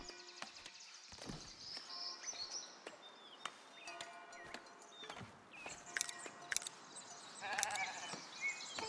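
Sheep on a farm in the video game Foundation bleat repeatedly. The calls overlap and come in irregular bursts over a soft, busy background of ambient game sounds.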